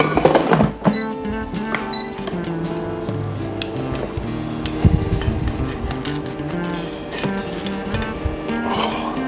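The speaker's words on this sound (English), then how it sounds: "I got my spatula and I got some tongs to pull that out" Metal spatula and tongs scrape and clatter against the basket of an air fryer while prying loose a stuck fried egg, with steady dense clinks and knocks and a hum running underneath.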